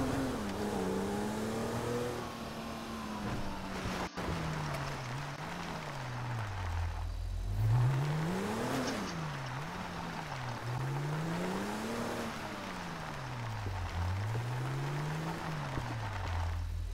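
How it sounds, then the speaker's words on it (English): A temporary SWAT vehicle in GTA V on a FiveM Houston roleplay server, its engine revving up and down in repeated rising and falling sweeps that are steady and fairly close, with no one talking. "How do you like the temporary new SWAT vehicle? It's fast"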